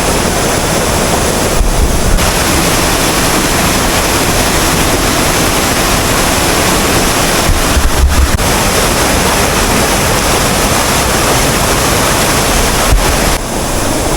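Broadband rushing water from river rapids beside the Lata Perahu waterfall campsite, a steady loud roar filling the whole stretch with no talking over it.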